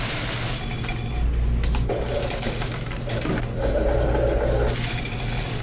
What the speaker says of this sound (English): Here's the vending machine.